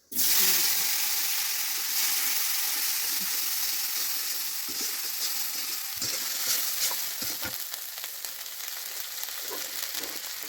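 Tomato added to ground spice paste in a hot pan, a loud sudden sizzle that settles into a steady frying hiss, with occasional stirring scrapes close by.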